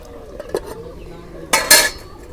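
A cooking pot of curry lifted off a stove with a few metallic clinks and scrapes, two brief louder clanks near the end, close and otherwise quiet.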